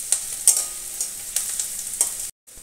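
Chopped onions frying in oil in a pan, stirred with a spatula: a steady sizzle with several sharp scraping strokes, close and clear, and a brief silent gap near the end.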